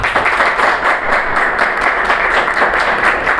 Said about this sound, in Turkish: Önce onlara bir alkış alalım